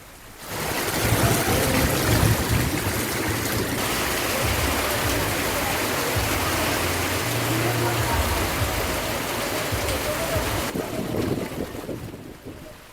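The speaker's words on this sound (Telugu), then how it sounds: "గంట నుంచి కురుస్తున్న వానకు రోడ్డుపై భారీగా వరద నీరు నిలిచిపోయింది" Heavy rain pours down on a flooded road during a cyclone, a dense, continuous roar of water and wind that stays loud and steady for most of the stretch before easing off near the end.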